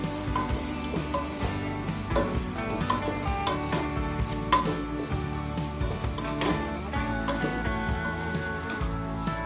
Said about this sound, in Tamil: ஒரு கைப்பிடி அளவு புதினா கொத்தமல்லி போட்டு ஒரு வதக்கிக்கலாம்.